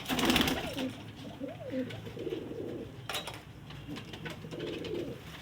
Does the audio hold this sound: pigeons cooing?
yes